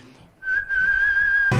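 An elderly performer whistles a romance melody on a stage in Kazan, one clear sustained tone that begins abruptly and holds steady before a sharp noise cuts in at the end.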